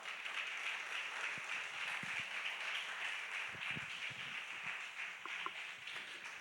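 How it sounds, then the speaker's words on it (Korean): Faint, distant applause from a church congregation at a Sunday youth worship service rises as a deaconess comes forward, a soft continuous patter with a few scattered sharper claps and shuffles. "우리 김영진 권사님 앞으로 나오실 때 우리 큰 박수로 맞이하도록 하겠습니다."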